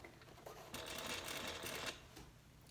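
A sewing machine stitches the bottom band onto a handbag, a steady mechanical whir that rises for roughly a second in the middle and then drops back to a quieter hum, close and fairly soft.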